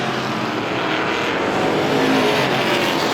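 Strictly-class stock cars race on the Star Speedway oval, a loud, continuous engine roar from several cars swelling slightly as they pass along the back straightaway, with no talking.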